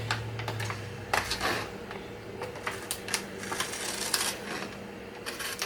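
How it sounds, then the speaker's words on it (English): An X-Acto knife cutting through laminating paper, giving a run of faint, quiet scraping and ticking strokes in an irregular rhythm, close by with no voices. "So we're just gonna go ahead and cut it out."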